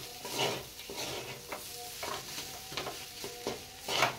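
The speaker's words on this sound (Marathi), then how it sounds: "आता ही भाजी आपण 2-3 मिनिट परतून घेऊया।" Vegetables sautéed in a pan with salt and red chili powder, green chilies already added: a faint sizzle with repeated scraping and stirring strokes of a spatula against the pan, spaced roughly every half second.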